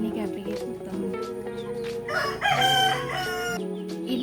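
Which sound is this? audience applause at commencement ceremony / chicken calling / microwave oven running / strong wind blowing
chicken calling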